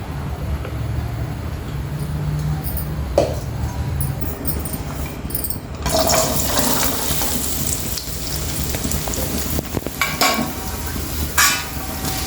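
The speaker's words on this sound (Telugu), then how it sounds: "ఇప్పుడు సరిపోయినంత ఆయిల్ వేసుకుందామండి కొబ్బరిలు ఫ్రై చేసుకుందాము" Coconut pieces fry in oil, giving a steady crackling sizzle with stirring scrapes and occasional clinks of a utensil against the pan, and the frying grows louder partway through.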